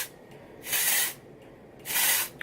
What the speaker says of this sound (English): And I'm going to spray it as well.